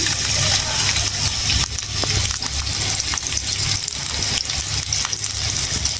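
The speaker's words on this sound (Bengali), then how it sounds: "তো আমরা এখন আমাদের ঢেঁড়স ভাজিটা করে নেব। পেঁয়াজ দিয়ে দিলাম" Onions fry in a pan for okra bhaji, giving a loud, steady sizzle with occasional stirring scrapes close by.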